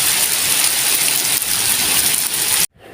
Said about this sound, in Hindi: आज तो बारिश बहुत ज़्यादा तेज़ हो गई है